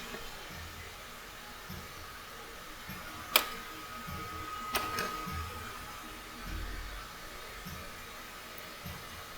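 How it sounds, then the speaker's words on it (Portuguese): A Traxxas RC servo's potentiometer seats into its mount with a sharp, faint click, followed by a second softer click a moment later, over a quiet background. "quando você ouve o clique, é sinal que o potenciômetro já assentou no encaixe"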